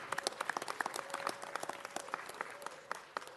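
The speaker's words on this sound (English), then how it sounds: "Let's give him a round of applause." Applause at a city council meeting welcoming the Korean Consul General, a brief burst of distinct individual claps from a modest crowd, fairly faint and sustained.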